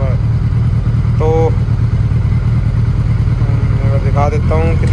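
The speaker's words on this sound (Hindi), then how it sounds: "तो अभी थोड़ी देर बाइक स्टार्ट कर दिया ताकि प्लस अच्छे से अपना काम कर जाए" A Suzuki Hayabusa motorcycle engine idling with engine flush added, a steady, close, even low rumble throughout, with brief voice sounds over it.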